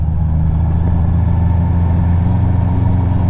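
A Honda CBR650R motorcycle engine runs at a steady idle, a continuous even hum that holds close and unchanging for the whole stretch, with no one talking.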